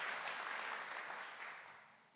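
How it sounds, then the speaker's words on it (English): Audience applause at a business summit, a steady wash of clapping from many hands that slowly fades toward the end, heard alone without talk. "can I just get another round of applause for Jimmy and all he does for us?"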